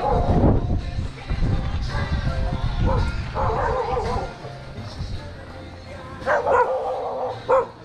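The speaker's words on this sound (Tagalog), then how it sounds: "Ano na aso, Arnel?" A dog barks and yips outdoors, several sharp barks and whimpers scattered over the span, close and fairly loud amid wind and background noise with people talking nearby.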